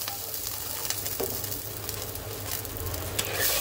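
Spices sautéing in a pan for a thin hilsa fish curry with potato and eggplant and a kalonji tempering, a steady close frying sizzle with light stirring clinks, no talking.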